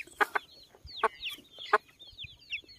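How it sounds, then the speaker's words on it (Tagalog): A native chicken clucks in several short, sharp bursts at irregular intervals, close by, with soft chirps between them. "So ito yung ating manok na native."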